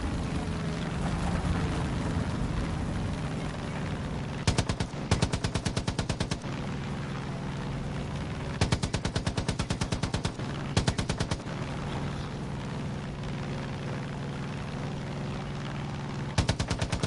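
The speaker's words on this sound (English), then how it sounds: "Dude, they're shooting the shit out of us." Enemy machine-gun fire in Far Cry 5, several rapid rattling bursts cutting through a steady engine-like drone from a vehicle, loud and close, with no talking.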